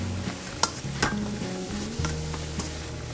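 Eggplant frying in a covered frying pan over medium heat, with a steady close sizzle, a few sharp clinks of the lid and pan, and soft stirring noises running throughout.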